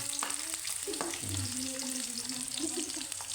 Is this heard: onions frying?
yes